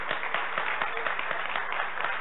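An audience at a tribute to Bogotá vallenato kings applauds warmly. The claps are steady, overlapping and close, and the applause keeps an even level throughout, with only faint hints of background voices.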